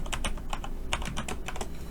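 Rapid computer keyboard typing during a PowerPoint exercise, a close, quick run of irregular key clicks with no talk.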